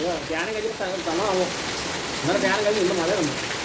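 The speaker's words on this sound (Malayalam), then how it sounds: "നമ്മുടെ ഇങ്ങോട്ട് അടിപൊളി മഴയാണ് കേട്ടോ ഇന്ന് വൈകിട്ട്" Steady, dense rain hissing throughout, with a voice talking over it at moderate level.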